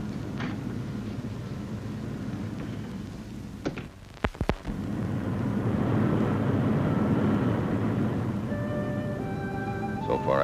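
An airplane engine drones steadily inside the cabin, a low continuous hum with a brief crackle partway through, then a swell in loudness as faint tones enter near the end.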